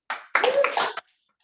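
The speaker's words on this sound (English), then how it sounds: "You may applaud." Short burst of applause from a small audience at the Winnipeg launch of Liz Harmer's book Strange Loops, about a second of close, fairly loud clapping that stops abruptly.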